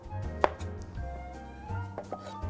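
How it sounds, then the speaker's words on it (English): A knife cuts through large artichoke hearts on a board, making a few quiet, separate chopping taps, one sharper than the rest. "I like to just kind of cut them"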